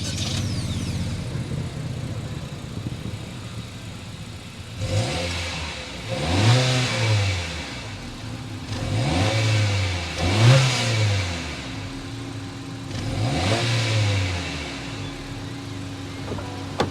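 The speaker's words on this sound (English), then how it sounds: "start up this turbocharge so you can hear that exhaust note" A turbocharged 2023 Honda Civic engine idles, then revs up and down four times in a steady rhythm, the exhaust note rising and falling, close by with no talking.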